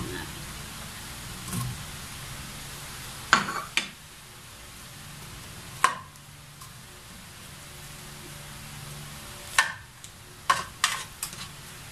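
Onions and whole peppercorns sautéing in hot oil, a faint steady sizzle broken by a few sharp clacks of a utensil against the pan.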